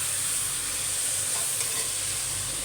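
Spices sautéing in a pan, giving a continuous dense hissing sizzle with faint stirring movement, steady and close.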